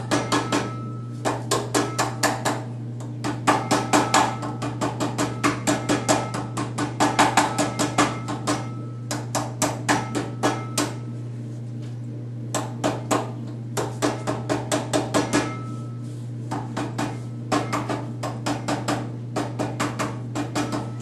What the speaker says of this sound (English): I'm going to take a little rubber on my other pair of pliers and gently tap the other two onto the piston